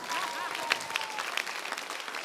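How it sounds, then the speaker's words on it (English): A church congregation claps after a sermon, giving a dense, steady wash of applause from many hands with occasional louder individual claps. A voice is faintly audible beneath the clapping. "You clap for Jesus when I finish preaching."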